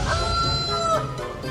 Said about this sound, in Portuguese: Isto é uma galinha gigante?